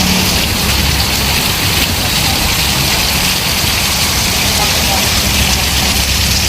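Heavy rain pours down steadily as a dense, loud wash of noise throughout, during a downpour that has left jeepneys packed, with a faint engine rumble mixed into the background.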